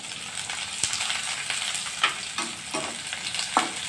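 Sliced onions sautéing in a pan for soybean chilli, a steady close sizzle broken by several scraping stirs and clinks of the spatula.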